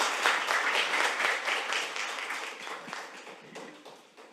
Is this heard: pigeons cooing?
no